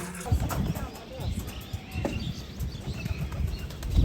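Pigeons flapping their wings close by in repeated soft bursts of fluttering, fairly faint, with people talking in the background.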